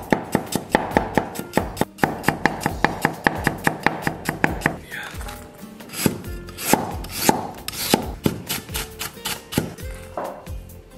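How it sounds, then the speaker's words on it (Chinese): A knife slices garlic into thin pieces on a wooden board, a quick even run of sharp taps, a brief pause, then slower, more spaced-out chops close by. "然后咱们把蒜给它切成小片儿"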